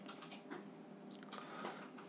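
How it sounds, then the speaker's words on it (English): Quiet, soft key taps on a computer keyboard while a command for calibrating a pH meter on an ESP32 board is entered, a loose run of light clicks ending in one sharper keystroke. "Type cal pH when the reading is stable enough."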